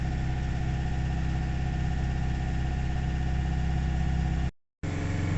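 A cold Nissan Navara D40 2.5 dCi diesel with power loss and hard-starting faults idles close by, a steady even engine hum that drops out briefly near the end and then resumes, with no talk.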